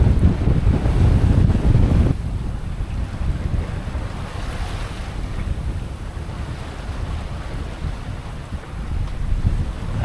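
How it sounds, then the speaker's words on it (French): Strong wind buffets the microphone around a sailboat in big waves off the Greek islands, with a constant loud rush of air and water that is heaviest at first and then steady, with no talk. "des grosses vagues là."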